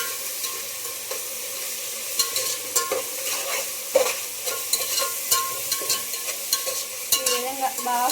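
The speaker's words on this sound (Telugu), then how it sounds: "అల్లం వెల్లుల్లి పేస్ట్ కూడా వేసేసుకొని పచ్చి వాసన దాంట్లో ఫ్రై చేసేసుకోవాలి." Ginger garlic paste frying in a pan for a fish curry, a steady bright sizzle broken by repeated scraping stirs of a spoon against the pan, close and with no voices.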